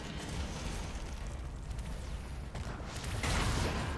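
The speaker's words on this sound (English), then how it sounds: "It's vulnerable to shield charge, which will cause it to explode." A Stone Imp blows apart after a shield charge in the video game Doom: The Dark Ages, a dense rumbling blast that swells louder near the end over continuous in-game noise.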